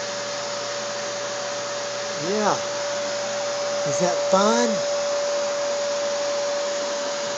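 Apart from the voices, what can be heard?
vacuum cleaner running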